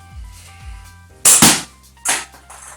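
A golf club strikes a golf ball in two sharp, loud cracks close by, the first a quick double snap and the second following under a second later, with no talking.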